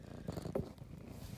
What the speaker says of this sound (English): She's a cat just like you.